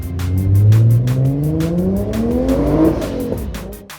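Toyota Supra pulling hard at a drift meet, its engine note climbing steadily through the gears, loud and close with a rising whine and rapid rhythmic pulses.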